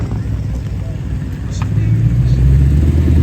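A Lexus IS F drives past on a racetrack at a drift track day. It is a rumbling engine note that grows louder and fuller as the car nears, with some voices faintly in the background.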